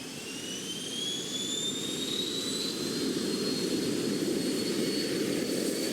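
Jet airliner engine roaring steadily and loudly throughout, with a broad low rumble and high whining tones sweeping slowly upward, as if the plane is taking off.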